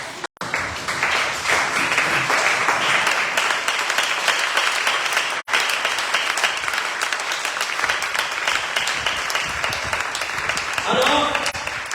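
A church congregation applauding steadily and loudly for the whole stretch, with dense clapping and cheering voices. It stops abruptly twice for a split second, and faint talk mixes in.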